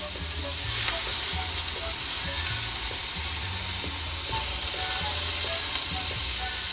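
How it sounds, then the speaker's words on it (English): Butter and lemon juice sizzle steadily in a hot pan while shrimp scampi is cooked, a continuous close frying hiss with no talk over it. "We're going to put some butter in the pan. Squeeze our lemon."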